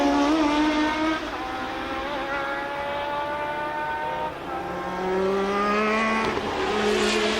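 Formula 1 cars of 1981 race through the Parabolica on a wet Monza track, engines screaming in a steady high whine, with pitch sweeping and shifting as several cars pass close together.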